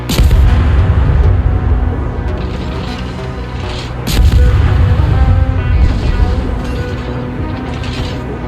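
Naval guns of a Tier 3 German destroyer, the IGN G-101, fire in World of Warships, with heavy booming bursts over a constant low engine and sea rumble, the loudest blast coming midway.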